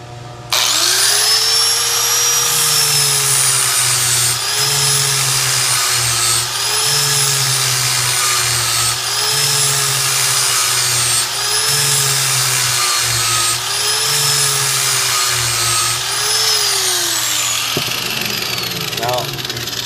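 Power tool grinding and sharpening a Scag mower blade in fall: a loud, steady high-pitched whine with a rhythmic rise and fall as the tool passes along the edge, continuous throughout and nearly to the end.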